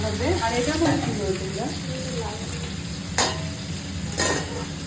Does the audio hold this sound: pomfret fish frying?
yes